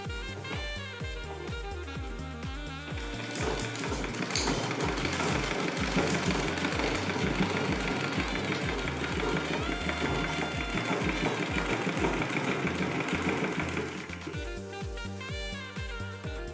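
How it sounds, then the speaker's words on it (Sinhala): Sewing machine stitching the seam of a flared skirt, with a steady rapid mechanical whir and regular needle pulses, running loud and continuous at close range for most of the span, then easing near the end. "අපි දැන් අනිත් අංශය මැෂින් කරගමු"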